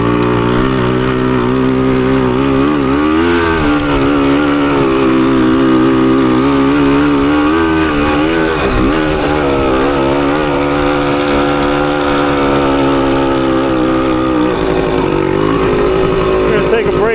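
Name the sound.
1980 Suzuki TS185 motorcycle engine running, clutch slipping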